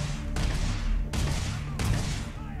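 Gunfire in the space RPG Starfield, three sharp loud shots or bursts spaced about a second apart, each cutting in abruptly over a low rumbling background.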